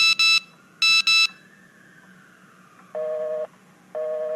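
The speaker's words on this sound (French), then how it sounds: "Ça sonne occupé, c'est bizarre." Telephone busy signal: two pairs of high electronic beeps, then a lower steady tone sounding twice in repeating pulses, with faint background hum and no talking.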